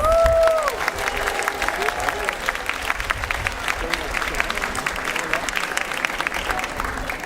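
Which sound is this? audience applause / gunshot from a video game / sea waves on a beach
audience applause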